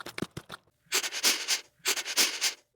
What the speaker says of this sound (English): A hedgehog.